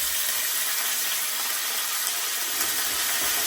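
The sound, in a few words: chicken sizzling in frying pan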